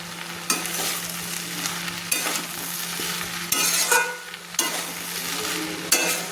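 Egg bhujia and chopped coriander being stirred into pasta in a pan over a low gas flame, with repeated scraping strokes over a steady sizzle, each stir bursting louder before settling back.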